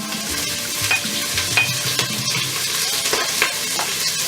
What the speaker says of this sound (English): So you can see my coconut oil is melted, so I'm going to add my spring onions.